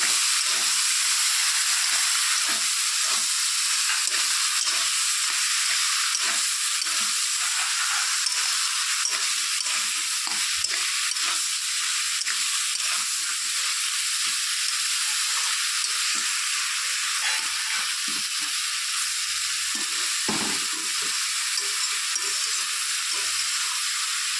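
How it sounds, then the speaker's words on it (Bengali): Dried fish with cumin and eggplant fries in a pan, a constant bright hiss and sizzle running unbroken throughout, with faint stirring clatter underneath and no voices. "মাছটা দিয়ে একটু নেড়ে চেড়ে তারপর এখন জিরে আর বেগুন দিয়ে দিচ্ছি দিয়ে আবার একটু নেড়ে চেড়ে দিচ্ছি"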